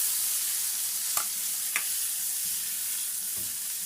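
Onion and tomato fry in a hot pan with a steady close sizzle, and a utensil scrapes and stirs a few times over the constant crackle.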